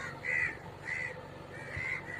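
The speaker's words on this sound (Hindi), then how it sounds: "तुम्हारे साथी लोग काँव काँव कर रहे हैं" Crows caw outdoors, giving three evenly spaced harsh calls over a low background hum, with no talking.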